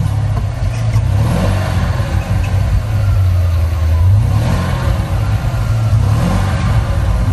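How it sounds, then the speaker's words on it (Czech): Bentley Arnage T with a 450-horsepower engine and four exhausts, heard from outside as it runs and revs in repeated rising and falling swells, a deep, loud, continuous throaty drone. "naštartovať toto auto, aby naši televízni diviaci vedeli, ako to auto znie zvonku"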